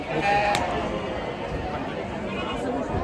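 Horned sheep bleat amid a noisy crowd at a large outdoor goat and sheep market in Chakan, with people chattering close by throughout.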